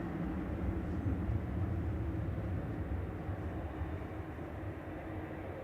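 An Aer Lingus propeller plane departing Manchester Airport, heard as a steady, fairly distant low roar and drone that holds throughout and eases slightly toward the end, with no voices.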